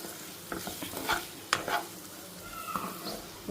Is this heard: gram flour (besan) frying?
yes